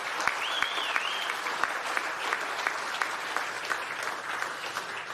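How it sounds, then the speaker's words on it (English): Audience applause for award finalists at the Fieldays Innovation Awards, a steady wash of clapping with sharp individual claps standing out and a brief whistle early on. "Let's give them all a round of applause."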